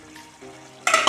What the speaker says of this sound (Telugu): ఒకసారి బాగా కలిపిద్దాము